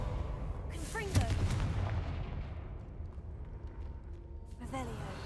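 Confringo fire spell explosions in Hogwarts Legacy, booming blasts with rumbling crackle near the one-second mark and again near the end, under a continuous game soundscape with speech present.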